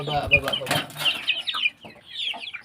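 Rhode Island chickens cluck in a backyard, with short, close clucks and chirpy calls scattered over a few seconds, a brief flutter of movement, and a person's voice mixed in.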